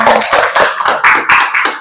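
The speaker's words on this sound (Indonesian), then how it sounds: "Kasih tepuk tangan dulu untuk temannya ya." Students in an eighth-grade science classroom clap for a classmate, a short round of close, quick handclaps in uneven bursts.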